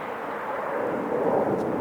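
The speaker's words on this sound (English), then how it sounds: "E175 Delta connection, flight 4108, coming in from Albuquerque, New Mexico" A Delta Connection Embraer E175 jet arrives at LAX. It makes a steady, broad, low rumbling roar that swells slightly as it passes, with no voices.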